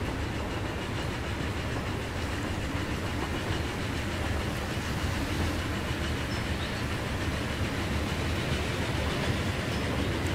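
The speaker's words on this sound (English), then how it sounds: "Probably going to see an Amtrak pulling through this side as well, given the speed that those ones travel at." An Amtrak GP40-2 passenger train runs along the Chicago to Buffalo line in the Transport Fever simulation game, giving a steady, loud rolling rumble with clattering wheels that holds unbroken from start to finish.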